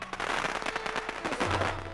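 Firecrackers exploding at a Chinese New Year celebration: a dense, loud, continuous string of sharp cracks and pops in rapid irregular succession.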